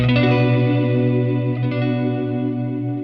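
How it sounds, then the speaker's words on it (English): Electric guitar struck hard through a Catalinbread Tremolo8 tremolo pedal, a loud ringing chord with a quicker rhythmic throb in volume, sustained alone and slowly decaying. "And if I hit hard, it gets faster."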